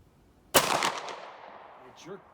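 A single loud close gunshot from an 1885 High Wall rifle chambered in .45-70 firing powder-coated bullets outdoors, a sharp crack followed by a decaying rumble of echo over about a second.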